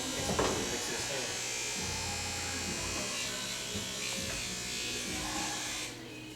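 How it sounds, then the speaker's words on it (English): Electric hair clippers buzz steadily close by as they cut hair, a continuous humming drone running throughout while someone talks over it. "always making sure sanitize my clippers"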